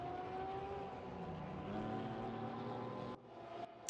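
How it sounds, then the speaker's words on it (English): A lapped BMW race car in a Dubai GP sim race drones past with a steady engine note, a second car's tone layered beneath, then cuts off abruptly near the end. "that is a lapped BMW"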